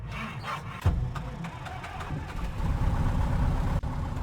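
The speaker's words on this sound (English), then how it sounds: "let's start the engine and go flying" Light aircraft piston engine in a flight simulator cranks and catches, then settles into a steady, rumbling idle, loud and close.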